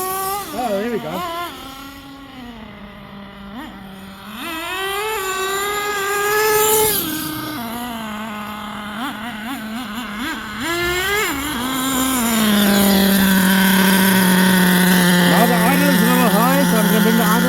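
An HPI Savage X 4.6 nitro RC truck engine buzzes loud and close, its pitch rising and falling as it is tuned, then holding a steady higher drone, with people talking over it.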